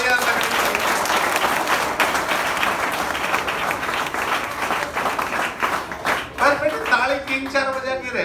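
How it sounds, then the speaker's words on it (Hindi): At a college freshers' comedy event, a crowd claps loudly and steadily for a teacher, a dense roll of applause that thins near the end as a voice comes through. "एक बार जोरदार सर के लिए तालियां लगनी।"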